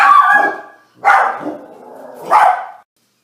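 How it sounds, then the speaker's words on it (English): Several pet dogs startled by a noise outside bark loudly indoors, three sharp close barks spaced about a second apart, then silence. "they started barking all crazy"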